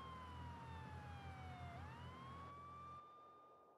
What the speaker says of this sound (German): die Sirene einschalten